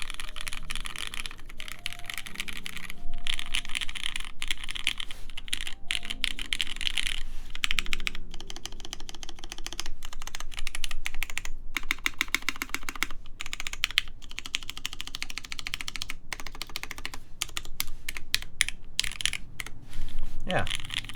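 A mechanical keyboard fitted with PBT keycaps clacks in quick, even bursts of close typing that run throughout, with a low voice speaking in the background.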